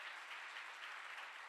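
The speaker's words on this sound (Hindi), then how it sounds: "ताली बजा के परमेश्वर को धन्यवाद" A church congregation at a revival meeting in Ranchi claps together in thanks to God: a dense, steady wash of many hands applauding, close and continuous, with no voices on top.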